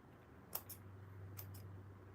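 Scissors snip through stitches in a crafting session, two quick pairs of faint, sharp clicks over a steady low hum, with no talking.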